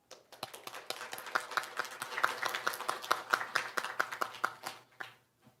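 Audience at an international labour statistics symposium claps to welcome a panel, a sparse, uneven patter of individual hand claps that thickens briefly and then trails off, with no talking over it.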